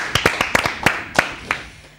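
Scattered hand claps from a small audience welcoming a singer on stage, about eight distinct claps spread unevenly over two seconds, close and fairly loud with no talk.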